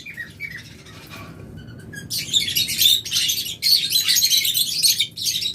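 A pair of lovebirds chirps close by, with a few soft tweets at first and then rapid, busy chattering squawks in dense bursts, fairly loud and with no talking.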